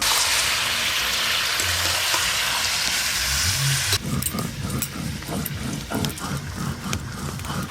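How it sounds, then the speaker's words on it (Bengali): Chicken pieces fry in hot oil with a steady, close sizzle, then shift to rhythmic scraping and clatter as the meat is stirred in the pan. "হালকা করে তেলের মধ্যে মাংসগুলোকে নেড়ে নেব।"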